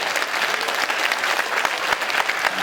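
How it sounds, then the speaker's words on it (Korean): A crowd at a political lecture by Seongnam mayor Lee Jae-myung, a Democratic Party presidential hopeful, breaks into loud, sustained applause, close and full for nearly three seconds. "이때 박수 한번 쳐주는데"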